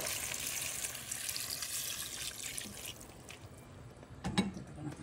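Water pours into a pot for chicken lechon sinigang in a steady splashing stream that fades, then a few sharp drips and a small clatter close by.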